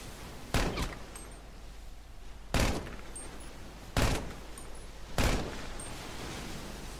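Micro SMG gunfire from the game GTA Online, heard as four short loud bursts spaced a couple of seconds apart over a steady low background hum.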